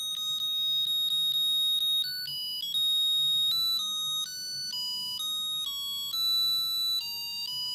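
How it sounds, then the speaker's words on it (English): A musical Christmas jumper decorated with Christmas puddings plays a thin, electronic beeping melody, note after note in a steady tune, fairly loud and alone. "It's got Christmas puddings on and also it plays music. Would you like to hear my Christmas jumper sing?"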